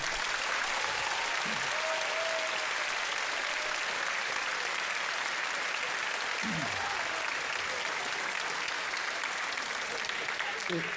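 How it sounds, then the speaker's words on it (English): A large audience claps at an eighth-grade moving-on ceremony at a middle school, giving sustained, dense applause that fills the whole stretch at steady volume, with a few voices faintly underneath. "give ourselves a round of applause as a large group"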